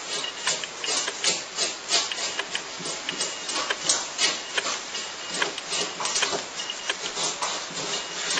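Sanding a carved fruit tiger: rapid, rhythmic scratchy rubbing strokes, close and fairly bright, repeating steadily throughout with no voices.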